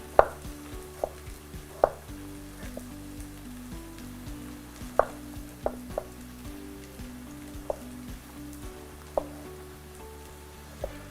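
Knife chopping tomato into small cubes on a board, a series of sharp irregular taps with pauses in between, while a pan of onions sizzles softly and steadily underneath.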